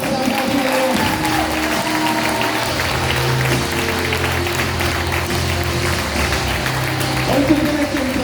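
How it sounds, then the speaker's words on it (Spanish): A church congregation claps steadily through a worship service, the sustained applause spreading across the room alongside soft musical tones beneath it. "Vamos a dar aplauso a Dios."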